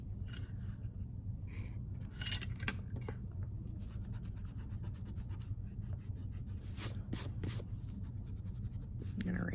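A pencil scratches lines across paper for a one-point perspective box drawing, with soft, close, continuous strokes and a few sharper scrapes, quiet and steady.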